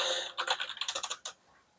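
Fingers tapping a budget wired RGB computer keyboard styled like a mechanical one, a quick run of about a dozen crisp, close keystrokes that stops abruptly, followed by silence.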